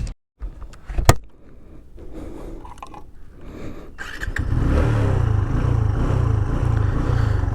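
A TVS Apache RTR 160 2V motorcycle engine, heard close: a brief quiet start with a sharp blip, then a low idle that swells into a loud, steady, throbbing engine note for the final few seconds.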